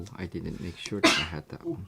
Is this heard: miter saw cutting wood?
no